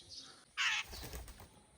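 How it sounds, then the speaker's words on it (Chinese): A jay fledgling flies down from a tall tree and lands on a hand, giving one short, close burst of wing flapping amid quiet outdoor ambience. "竟然从那个大树上直接飞到我的手上来了"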